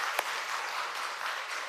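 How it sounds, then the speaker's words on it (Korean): A church congregation at a Sunday service applauds in a steady, even wash of clapping that holds for the whole stretch at a moderate, slightly distant level, with no voices over it. "다시 한 뜨거운 박수 한번 해주시고요."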